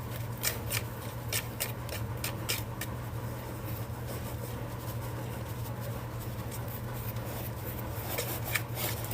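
Flour and frozen butter worked into cranberry scone dough with steady, continuous stirring and scraping, a dense scratchy rustle with quick sharp ticks of the utensil against the bowl, close up and without talk.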